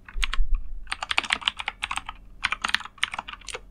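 Fast, uneven typing on a computer keyboard while writing Python code, close and clear clicks in quick bursts with short pauses, no voices.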